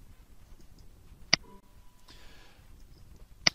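Two sharp, isolated computer mouse clicks, close and quiet, spaced about two seconds apart against a faint room background.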